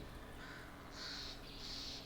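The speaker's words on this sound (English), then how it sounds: "Birds flying around overhead and spitting poison on the ground." Birds wheel overhead in a World of Warcraft Shadowlands dungeon set among mountain scenery, giving two harsh, crow-like cries in quick succession over a steady low background hum.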